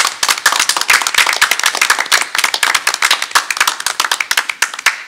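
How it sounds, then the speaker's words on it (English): An audience at a board of education meeting breaks into applause, a dense run of loud, close hand claps continuing steadily from start to finish. "give all of you a round of applause for the work you do on behalf of our students"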